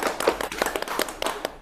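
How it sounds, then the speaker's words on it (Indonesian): A small group clapping hands in a classroom or training session, a quick burst of brisk, slightly uneven claps lasting under two seconds, close and fairly loud. "Tepuk tangan."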